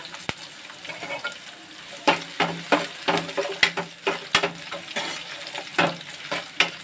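Mustard seeds, urad dal and sliced onions sizzle and crackle in hot oil in a pan, with a spoon scraping and clattering in quick repeated strokes over the constant frying hiss.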